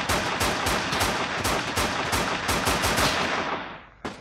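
Sustained automatic gunfire from a war video game, rapid rattling bursts with several loud individual shots, continuous and close for about four seconds before cutting off abruptly.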